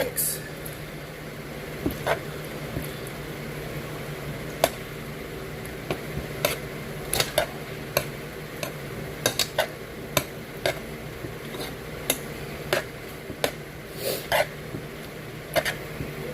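A utensil stirring noodles, egg and butter in a pan: irregular sharp taps and scrapes against the pan scattered over a low steady background, with a person talking in between.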